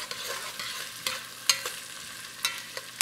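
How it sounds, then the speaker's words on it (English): Gumbo vegetables browning in a pot keep up a steady sizzle, broken by several sharp scrapes and clacks of a spoon stirring at irregular intervals, with no talking. "So we'll let this brown for a little bit and give it a little stir."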